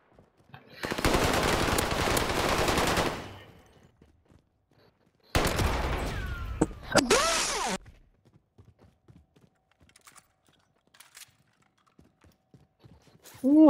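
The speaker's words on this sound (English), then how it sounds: "I'm shooting through this." Loud, rapid automatic gunfire from Call of Duty, a sustained burst of several seconds, then a second shorter volley with sharp cracks, followed by quieter scattered clicks and movement.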